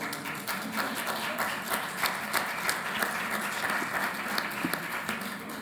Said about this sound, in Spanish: Nuevamente un fuerte aplauso.